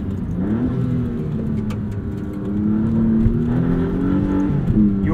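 A 2023 Maserati MC20 driven hard on a canyon road, its engine a steady loud drone that swells as revs climb midway, close and continuous with no talk.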